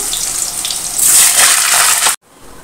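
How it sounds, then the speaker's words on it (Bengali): Potatoes frying in hot oil in a home kitchen while chicken kosha is cooked, a loud steady hiss and crackle that swells partway through, then cuts off abruptly and drops to a faint sizzle. "চলো আলুগুলো ভেজে নিই"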